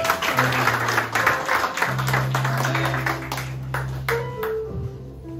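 A church congregation applauds and acclaims the Lord: dense, fairly close clapping fills the first half, then thins into scattered claps over a sustained keyboard tone.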